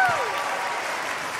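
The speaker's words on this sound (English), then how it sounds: "Round of applause." Audience applause at a school house music concert, a dense steady wash of many hands clapping throughout, fairly soft, with a brief voice at the start.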